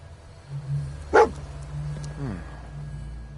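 Dogmeat, the dog companion in Fallout 4, gives a single sharp bark and then a softer whimpering yip, heard over low game ambience with someone talking faintly.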